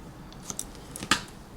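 Scissors cutting across a paper dress pattern give a few faint, close snips and crisp slicing clicks, the loudest near the end, in a quiet room without talking.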